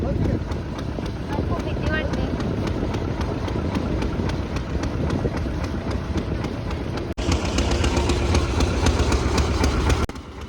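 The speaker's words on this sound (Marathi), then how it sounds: "बोट आता चालू झाली आहे" Boat engine droning steadily on a passenger boat returning from Arnala Fort, Virar, a continuous rumble mixed with wind buffeting the microphone, growing slightly louder partway through.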